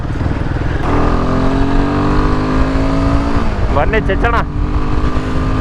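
A Royal Enfield Himalayan 450 single-cylinder motorcycle engine drones steadily while riding, its pitch climbing slightly before shifting, with a person talking over it throughout.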